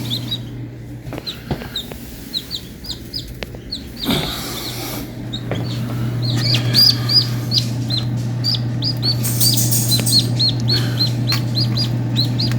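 Newly hatched baby chicks, one with its dried umbilical cord still attached, chirp in a steady stream of high, bright peeps on a homestead, with a constant low hum underneath.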